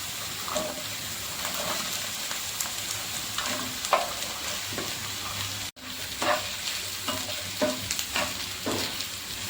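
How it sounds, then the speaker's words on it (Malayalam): Two square-cut onions added to hot oil for Kerala-style chilli chicken, crackling and sizzling steadily up close, with intermittent spatula scrapes and clinks against the pan and a brief drop-out midway. "ഇനി ഇതിലേക്ക് രണ്ട് സവാള സ്ക്വയറിൽ കട്ട് ചെയ്തത് ചേർത്ത് കൊടുക്കാം"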